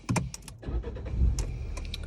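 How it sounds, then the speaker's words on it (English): A car engine cranks and catches in a brief burst, settling into a low idle rumble, with a few small clicks and rattles around it. "If I turn the car on"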